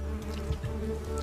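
Honey bees buzzing close by in an African wild setting, a dense continuous droning hum with shifting pitch throughout the short stretch.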